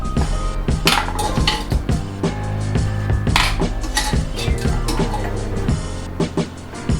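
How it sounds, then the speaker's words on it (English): Cooked lamb chops lifted out of a pan, with loud, close, repeated metal clanks and scrapes of utensils against the pan running throughout. "So these are ready to take out of the pan, and I'm going to just set them aside"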